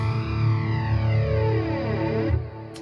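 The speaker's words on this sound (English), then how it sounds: "is my rhythm sound, but with a flanger" Electric guitar rhythm part run through a Neural DSP Quad Cortex with a flanger effect, sustained chords sweeping with a swirling comb-filter shimmer, loud and alone, cutting off near the end.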